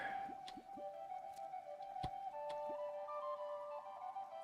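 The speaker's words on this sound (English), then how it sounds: "But we can throw some chum into the water anyway." Chum tossed into water in Terraria, a few small wet plops and squishy splashes, faint and brief, over a steady soft tonal background hum.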